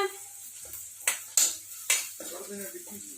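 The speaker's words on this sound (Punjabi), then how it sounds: "ਲਓ ਜੀ ਸੜਕਾ ਆਪਣਾ ਭੁੱਜ ਗਿਆ ਤੇ ਲਾਈਟ ਬਰਾਊਨ ਜਿਹਾ ਹੋ ਗਿਆ" Spices for a tadka frying in a pan, with a metal spoon clinking and scraping against the pan in several sharp knocks, a light sizzle running underneath.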